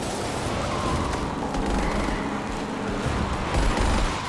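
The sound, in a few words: gunfire with rain still audible, modified scene from The Batman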